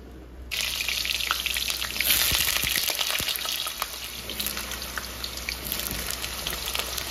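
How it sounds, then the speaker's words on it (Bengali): Mutton going into hot oil, which bursts into a loud, close sizzle after a quiet moment and then keeps up a steady crackling hiss like rain on a surface, with no one talking. "তেল গরম হয়ে গেছে। এবার চলো মাটনটা ঝটপট রান্না করি।"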